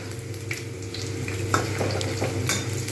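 Crispy potato fries frying in oil for party-style aloo bhaja, a continuous close sizzle with scraping stirs and occasional clinks from the ladle, no talking.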